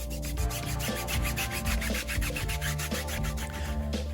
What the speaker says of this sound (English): then we'll get to it with the Tough Shine tyre brush